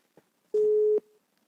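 A single steady telephone line tone sounds for about half a second while a phone call is being placed, loud and clear, ending abruptly with a short fainter tail and a brief click just before it.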